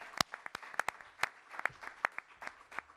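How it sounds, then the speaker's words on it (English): A few people clap at a New York COVID-19 briefing, sparse, faint, uneven hand claps scattered across a quiet room rather than a full ovation. "Let's give them a strong round of applause."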